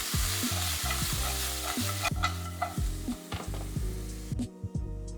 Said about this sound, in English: warm a little oil with garlic on low heat. Then toss in pulled frozen edamame.